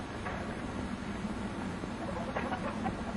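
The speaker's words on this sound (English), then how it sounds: "The chickens jump and fly from their roosts. First the rooster, and then the hens." White leghorn hens and a rooster clucking softly on their roosts, a steady low murmur of close, overlapping fowl calls with a few brighter squawks near the end.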